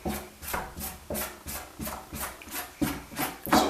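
Mold material scraped off the inside edges of a bucket, a close series of about nine rhythmic scraping strokes roughly every half second, moderately loud, with no talk.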